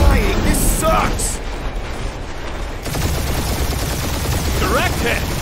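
Blaster and turret gunfire during a spaceship dogfight in Guardians of the Galaxy, a steady roar of rapid shots and engine noise with occasional booms, with voices talking over it.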